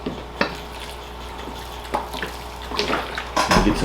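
Water poured by hand over a bonsai air layer on a Premna, giving a few short splashes and trickles that build toward a louder gush at the end, close and alone.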